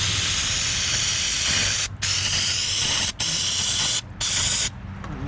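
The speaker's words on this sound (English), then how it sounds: "Let's see how good this works on this without me having to agitate it or anything." Degreaser sprays in several long hissing bursts onto belt dust in the engine bay of a Coyote-swapped Foxbody, loud and close, with three short pauses between blasts and no talking.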